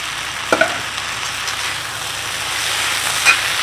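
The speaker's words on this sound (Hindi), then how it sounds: "तो उसमें मैं टमाटर भी ऐड कर देता हूँ" Okra frying in a pan as tomatoes go in, a steady soft sizzle with a couple of sharp stirring clicks near the start and another late on, no voices.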